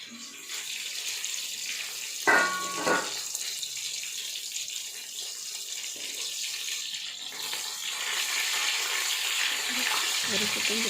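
Chicken frying in a pan, a steady broad hiss of oil sizzling throughout at moderate level, with a brief clatter partway through and a voice faintly in the background.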